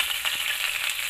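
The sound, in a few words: sautéing vinegar in a pan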